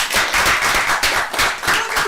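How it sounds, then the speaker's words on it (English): A short burst of hand clapping from a small group on a reality TV show set, brisk and fairly close, lasting about two seconds. "A round of applause for me."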